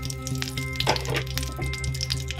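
Curry leaves frying in a pan for chicken sukka make a close, continuous crackling sizzle with small pops and one brief louder burst, steady over a low hum.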